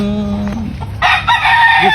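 A fighting rooster crows loudly and close by, a single ringing call that rises and holds, preceded by low clucking.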